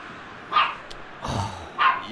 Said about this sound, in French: Emmène le chien là-bas, elle va faire que de gueuler.